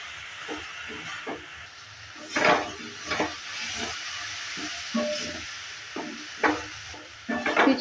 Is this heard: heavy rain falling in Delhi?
no